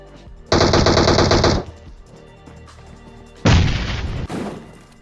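A shooting video game fires off a long burst of rapid automatic gunfire, then a deep grenade blast and a second burst, all loud and up close.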